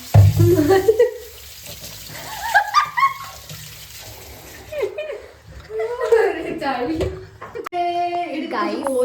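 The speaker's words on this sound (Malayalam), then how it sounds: "ഇനി നമ്മള് നന്നായിട്ട് വാഷ് ചെയ്ത് കൊടുക്കും" Beef washed under a running kitchen tap, water splashing and running steadily while people talk and laugh close by.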